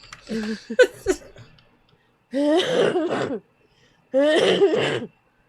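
A short burst of throat noise, then two separate loud, rough coughs with pauses between, close and raspy, no talking; a COVID cough.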